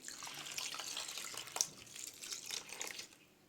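Milk pours quietly into a pot of rice for an Egyptian baked rice dish, a soft continuous liquid splash with slight gurgles, faint and close.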